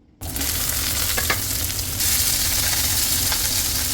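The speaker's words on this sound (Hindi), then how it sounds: "यहाँ पर भिंडी फ्राई हो रही है" Okra (bhindi) frying in a pan for a curry (salan), a steady close sizzle that begins abruptly and holds at a loud, even level with brief crackles and scraping stirs.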